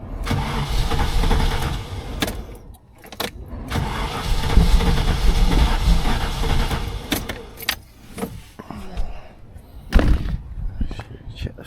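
A Land Rover Defender with a GEMS V8 conversion cranks and catches, then runs with a rough, fluctuating roar that swells and dips, broken by a few sharp knocks and clunks nearby.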